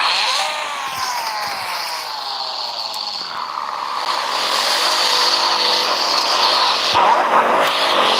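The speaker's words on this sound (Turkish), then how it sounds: "güzel drift attın abicim" A video-game car drifts with a loud, buzzing engine note that sweeps up and down in pitch, with tyre screech layered over it. The sound is close and continuous, and no one talks.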